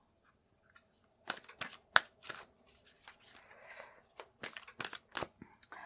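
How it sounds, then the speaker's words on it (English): Tarot cards are shuffled and handled by hand: quick dry riffles and flicks in short bursts with soft slides between them, close and fairly quiet, with no talking. "I want to pull out a card for you."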